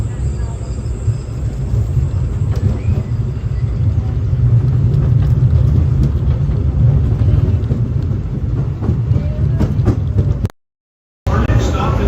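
Disneyland park train rolling on its rails toward Toontown Depot, a continuous low rumble of wheels and carriage that runs steadily throughout, briefly cutting out near the end, under a faint voice.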